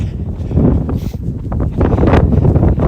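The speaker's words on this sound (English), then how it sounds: "As windy as it is right here" Steady outdoor wind buffets and roars across the microphone near the Washington Monument, with gusts swelling and easing throughout; no one speaks.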